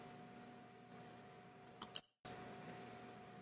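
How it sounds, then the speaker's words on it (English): A computer mouse click and a press of the keyboard delete key: a couple of soft, quick clicks close by in an otherwise quiet room with a faint electrical hum. "Then click and hit delete on your keyboard."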